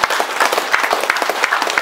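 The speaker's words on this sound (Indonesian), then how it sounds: "Tepuk tangan dulu." A crowd claps together at a political gathering, a short burst of loud, rhythmic, fairly sparse applause with no one speaking.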